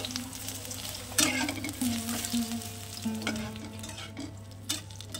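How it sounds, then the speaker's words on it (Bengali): Brinjal slices fry in oil in a kadai with a steady close sizzle, broken by several sharp spatula scrapes and clinks as the pieces are turned. "এখানে দেখো আমার বেগুনগুলো প্রায় ভাজা হয়ে এসেছে, একটু একটু লাল লাল হয়ে গেছে।"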